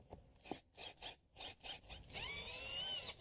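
A screw is driven through a replacement window into the wooden jamb, with a series of quiet rhythmic scraping turns followed by a steadier, whining grind near the end.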